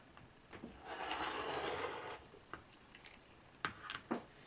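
Scissors cut excess quilt fabric with a soft, brief rasping snip, followed by a few faint taps and rustles of fabric handling. The sound is quiet and close.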